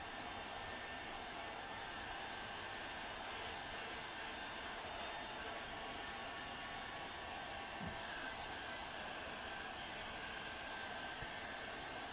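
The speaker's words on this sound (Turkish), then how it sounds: "Sıcak hava tutarak derimizin gözeneklerini açıyorum" A hot air blower runs steadily on shoe leather, a constant broadband whoosh that holds near and even for the whole stretch with no talk.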